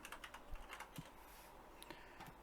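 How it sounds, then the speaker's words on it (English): A computer keyboard is typed on to enter a search word, making a quick run of light, close key clicks that ends after a couple of seconds. "I'm just going to type in wrestling,"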